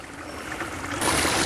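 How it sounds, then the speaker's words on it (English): Water runs down a garden pondless waterfall built from large boulders, producing a continuous close-up splashing rush that swells louder partway through, with no voices. "check out the detail in this waterfall."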